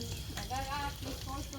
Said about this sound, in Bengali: তো এই যে আমার মাছ বিরান কিন্তু হয়ে যাচ্ছে।